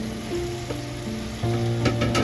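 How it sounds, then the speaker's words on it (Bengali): Okra frying in spiced oil in a pan, a steady close sizzle with light stirring scrapes and a louder surge of crackling partway through. "এবার এটাকে ভালো করে ভেজে নেব"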